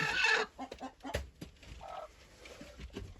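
Chickens clucking inside a backyard coop, a loud squawk up front followed by scattered short clucks and soft calls, close by with no talk.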